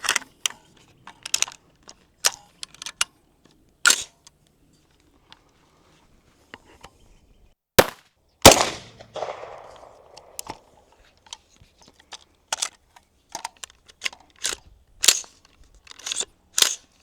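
Rifle fire from 7.62 FMJ rounds shot into farm grain on a farm: a string of sharp, loud cracks at irregular intervals, one heavier blast trailing off into a longer echoing tail, with no talk.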